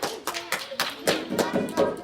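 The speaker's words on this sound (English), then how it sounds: "Give yourselves a round of applause." A small group of students in a science class claps in a short, uneven burst, sharp separate hand claps that thicken into a quick patter, close by and fairly loud.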